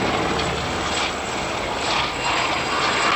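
Royal Navy Sharks display team helicopter manoeuvring at an air show, a steady, loud rotor and engine roar that swells slightly as the aircraft moves, with no talk over it.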